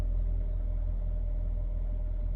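A Mercedes GLB 250 engine with its check engine light on idles steadily, a close, even low rumble with a faint hum and no talk over it.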